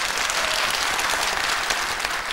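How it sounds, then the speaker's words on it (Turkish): Applause from a studio audience at a Turkish TV dance contest for the second dancer, a thick, constant patter of many hands clapping together, fairly close and unbroken for the whole stretch. "İki numaranın alkışları."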